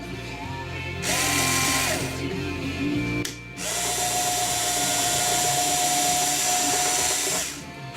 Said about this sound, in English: I'm going to go ahead and drill my other holes.